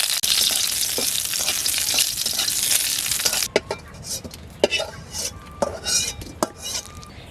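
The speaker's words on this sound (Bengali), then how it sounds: "শুকনো মরিচ তেলে টেনে নিচ্ছি।" Dried red chillies fry in hot oil, a loud dense sizzle for a few seconds before it drops away to quieter crackling, broken by scattered clinks of a utensil against the pan.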